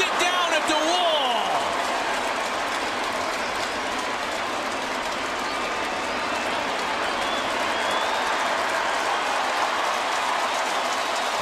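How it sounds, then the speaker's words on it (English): Crowd applause from the home fans at a baseball stadium after Ichiro runs down a David Ortiz drive at the wall, a steady, dense roar of clapping and cheering that holds for the whole stretch with a voice talking over it. "the 10-time Gold Glover gets a nice round of applause from the home faithful"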